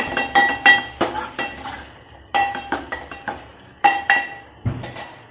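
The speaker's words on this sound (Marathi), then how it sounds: "कांदा भाजायला लागलेला" Onion being roasted in a pan while a metal utensil stirs it, with sharp clinks and scrapes in short bursts close by. Setting is a Maharashtrian home kitchen during evening cooking.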